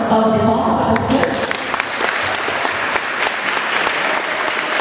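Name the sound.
applause for the teacher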